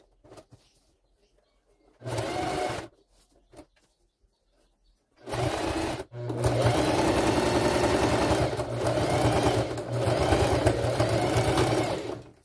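A sewing machine stitches down a folded fabric hem in short bursts, first two brief runs, then a longer steady whirring stretch, close and clear with no talking.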